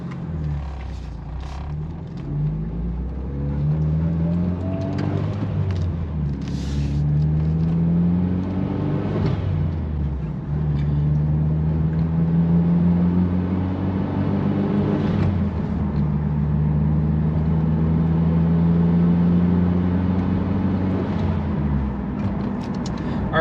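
Inside a Mitsubishi Evo fitted with a forged carbon shift knob, the engine rises and falls through upshifts into fifth gear, a close steady rumble with revving sweeps and brief dips between gears.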